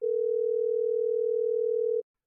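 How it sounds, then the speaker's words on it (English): A steady telephone dial tone sounds alone for about two seconds as a call is placed, then cuts off abruptly into silence. "Larry calls Floyd back."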